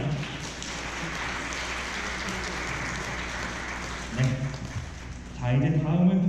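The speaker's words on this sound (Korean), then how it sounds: "여러분 큰 박수 부탁드리겠습니다." Wedding guests in a convention hall applaud with a broad, even wash of clapping for several seconds, then the clapping fades as a voice speaks over it near the end.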